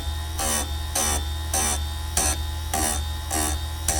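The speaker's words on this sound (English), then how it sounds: "I'm just taking off a tiny little bit of metal each time just to sharpen that edge up." A bench grinder sharpens a chainsaw chain in short repeated touches, about seven bursts of high grinding roughly every half second over the motor's steady hum, with no talking.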